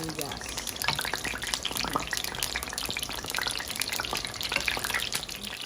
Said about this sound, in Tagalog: piniprito ko na muna yung sibuyas para yung pagpiprituan ko ng karne, nandun na yung lasa ng sibuyas.